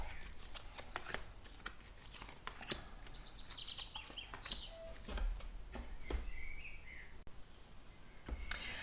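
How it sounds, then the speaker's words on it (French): Tarot cards shuffled and drawn by hand for a horoscope reading, a run of crisp riffling flicks and soft slaps at close range, fairly quiet with no talking. "on va aller tirer 3 cartes tendance, 3 cartes ambiance"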